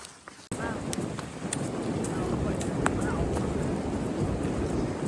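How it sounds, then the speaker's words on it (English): Strong wind gusts buffet the microphone in a steady roar at a tent camp on the Appalachian Trail, with scattered clicks and knocks mixed in. "I hope the sound of the wind is coming through."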